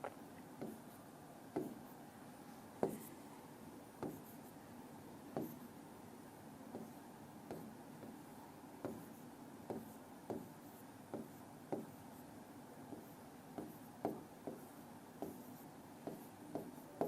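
Chalk or marker taps and strokes on a board while drawing geometry lines: faint, evenly spaced clicks over a low steady background hum.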